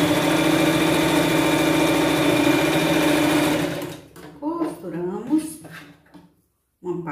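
A sewing machine runs in a loud, continuous whir while stitching the side seams of a Cinderella-style pet costume skirt, then stops, followed by soft fabric handling and a short pause.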